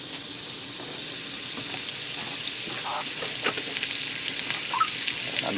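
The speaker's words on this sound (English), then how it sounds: "And I'm going to add in about 3 tablespoons of butter." Butter melts into hot oil in a skillet while cooking garlic butter steak bites, giving a steady, even sizzle with faint crackles and the occasional scrape of stirring.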